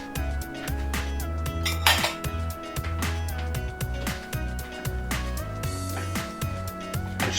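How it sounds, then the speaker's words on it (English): A spoon stirs bay leaf, chopped parsley and coriander into a cast iron pot, scraping and clinking against the iron in a steady, close rhythm. "Stir all these in together."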